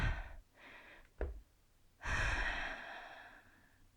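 Controlled yoga breathing during a power yoga session for the side waist and back body: long, audible breaths drawn in and released close to the mic, each a soft rushing sigh with brief quiet gaps between.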